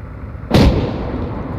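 A single loud, close gun report rings out in the military video game Arma 3, a sharp blast followed by a rumbling decay, with no talking.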